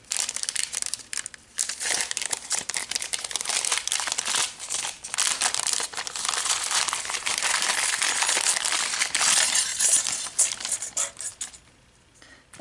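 Plastic packaging around holiday craft items being opened, close and continuous crinkling and crumpling with brief crisp tearing, pausing only once or twice.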